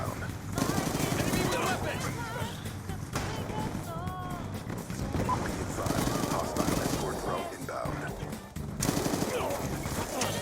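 Gunfire in Black Ops 2 multiplayer: bursts of automatic fire and shots run nearly continuously through the clip over game music and effects, with a player talking over them.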